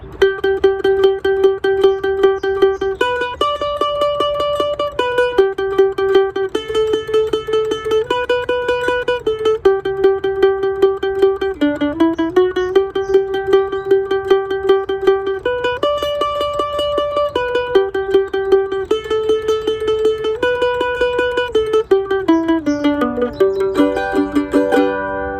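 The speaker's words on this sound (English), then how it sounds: "When we add our upstroke to it, it's going to create the 16th note texture that is most commonly found in bluegrass music" Mandolin strums a bluegrass rhythm of rapid sixteenth notes with alternating down and up strokes on a tune, loud and close, a brisk even tremolo-like pulse through changing chords with no talking.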